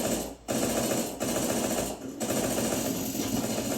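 Rapid automatic gunfire in Counter-Strike 2 rattles in loud, close bursts, with brief gaps between three sustained strings of shots.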